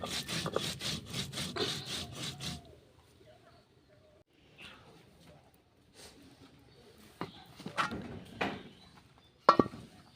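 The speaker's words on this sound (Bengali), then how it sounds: "আর অল্প করে একটু জিরা বেটে নেব।" Cumin is ground on a grinding stone in a rural village kitchen. A voice talks at the start, then quiet intermittent scraping and rubbing strokes follow, with a few sharper, louder scrapes near the end.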